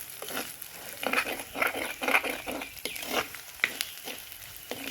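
Mustard seeds, urad dal and cumin sizzle in oil for a kuzhambu tempering, with a steady frying hiss broken by rapid irregular pops and light stirring scrapes, close and fairly loud.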